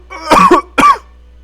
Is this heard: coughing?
yes